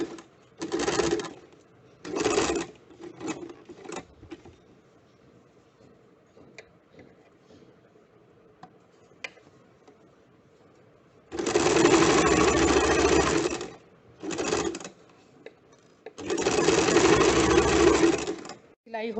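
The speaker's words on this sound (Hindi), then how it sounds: "इसी तरह से दूसरे हिस्से के शोल्डर को भी सिल लेंगे।" A sewing machine stitches the shoulder seam of a high neck blouse in several bursts, some short and some long steady runs, with quiet pauses and a little talk between them.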